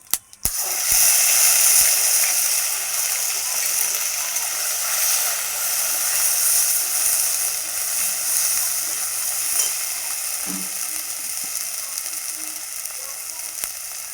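Ground spice paste hits hot oil in a wok already tempered with dried red chillies and cumin, giving a loud, steady sizzle that starts abruptly after a sharp clatter and runs on, with occasional stirring scrapes.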